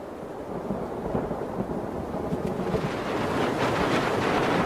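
A storm builds as thunder rumbles and rain falls, the broadband wash of noise steady, then growing louder and denser toward the end with no voices.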